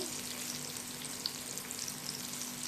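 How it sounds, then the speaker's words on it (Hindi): Mutton chops dredged in flour shallow fry in oil over a low flame, giving a steady, close sizzle with faint crackles and no talking. "इस तरह से आप इनको ऑयल में शैलो फ्राई कर लेंगे"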